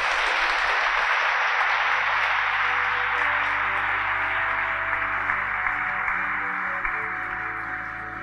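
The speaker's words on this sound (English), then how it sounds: "So let's give them a round of applause." Broad, continuous applause from a large audience at a graduation ceremony, a dense wash of claps sustained at even volume with no talk, fading a little toward the close.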